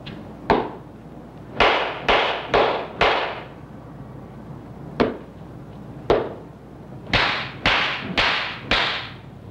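Sharp slaps on the shoulder during Zen meditation in a Japanese temple. Eleven crisp cracks fall in quick clusters with short gaps, each loud and close, ringing briefly over a quiet hall.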